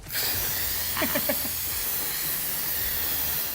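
Instant Pot pressure cooker venting steam on quick release, a steady loud hiss filling the whole stretch with a few brief rattling chirps early on.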